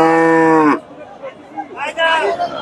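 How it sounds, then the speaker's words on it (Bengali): A black Holstein Friesian cow at a busy cattle market gives a loud, long moo up close, followed by shorter lowing calls, with crowd chatter in the background. "কালো শাহী ফ্রিজিয়ান গাভী"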